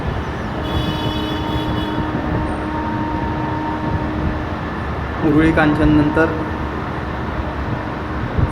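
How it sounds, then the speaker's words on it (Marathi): The Pune–Sai Nagar Shirdi Express on its inaugural run rolls at about 110 km/h past Uruli Kanchan, a steady close rumble under a voice, with a brief higher whine rising near the end. "फ्लॅट 110 kmph गाडी धावलेली आहे."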